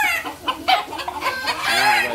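Chickens in a small coop of about six square decimetres cluck continuously, nearby and fairly loud, with overlapping calls from several birds.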